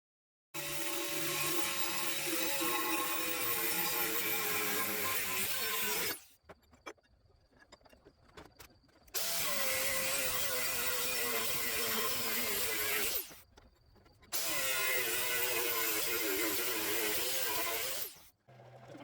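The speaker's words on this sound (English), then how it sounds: "Once we drill and cut this plate to size" A power tool drills and cuts through steel plate in three long, loud bursts, with short pauses and faint clinks between them.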